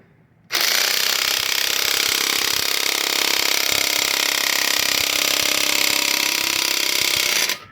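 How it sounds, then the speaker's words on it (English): A Makita electric impact wrench loosens a flange bolt on the front differential of a Jeep Grand Cherokee WK, a loud, close, continuous rattling hammer lasting about seven seconds, with no talking. "And then I got my Makita electric impact."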